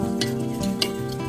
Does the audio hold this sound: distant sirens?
no